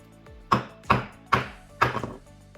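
A thin test piece of super-wet-mix GFRC concrete is struck in four sharp, separate cracking impacts spaced about half a second apart, each loud and close, the last one breaking apart with a brief rattle.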